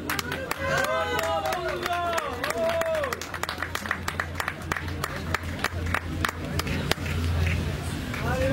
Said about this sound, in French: Allez, vous pouvez les applaudir.